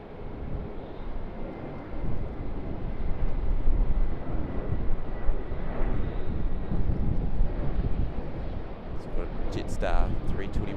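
A Qantas Boeing 787-10 airliner takes off from Sydney's runway 34 left as a distant, sustained low jet roar with wind buffeting, while a person speaks over it throughout.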